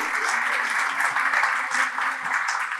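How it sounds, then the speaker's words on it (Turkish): Festival audience applauding at the start of a day's session at a breast cancer awareness event, dense continuous clapping from a large crowd throughout. "İsterseniz şöyle bir alkışlarla bir canlanalım, güne güzel başlayalım."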